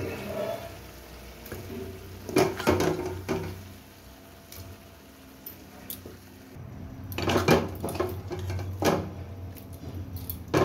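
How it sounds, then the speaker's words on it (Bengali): Meat tipped slowly into a pressure cooker pot, giving scattered metallic clinks and clatters of pot and utensil, with louder bursts of rattling toward the end. "দেখুন আমি প্রেসার নিয়ে নিয়েছি, এর মধ্যে আস্তে আস্তে মাংসটা আমি ঢেলে দেবো।"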